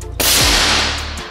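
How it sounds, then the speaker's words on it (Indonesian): A single sharp crack from an FX Marauder PCP air rifle, loud and close, followed by a short fading ring and a faint thud as the pellet strikes. "Kita coba tembakan yang ketiga."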